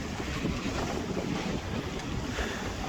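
A sailboat under pure sail with no engine, cruising the Bay of Colwyn; steady wind roar and water rushing along the hull fill the scene continuously at moderate level, with no voices.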